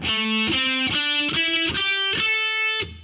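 A distorted electric guitar climbs a two-octave heavy metal scale in six or seven evenly picked, sustained notes, each rising in pitch, loud and close before ringing off at the end.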